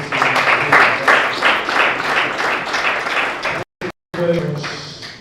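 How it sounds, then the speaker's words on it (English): Conference audience at an agri-food systems meeting applauding after an opening address: a burst of mid-distance clapping with voices mixed in, cut off by brief dropouts before talk resumes. "A resounding round of applause."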